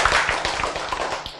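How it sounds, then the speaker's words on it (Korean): Audience applause rings out during a church sermon, a dense burst of many hands clapping fairly close and loud, holding steady before easing slightly at the end, with no talk over it. "박수."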